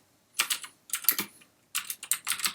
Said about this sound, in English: So what we'll do is we'll type git branch and then create a name.